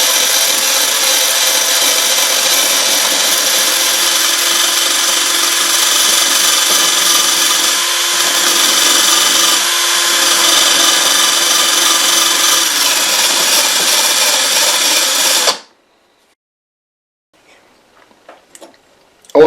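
A rotary wire brush scours rust from a small spring clip, the suspension part of a Dinky Toys Jaguar Mk X held in pliers, a loud, harsh, steady abrasive whir close up that cuts out abruptly near the end.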